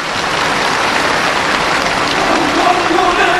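Sustained, enthusiastic applause rises from a large crowd of participants at a mass rally in Pyongyang, a dense, even roar of clapping that holds loud and steady from start to finish.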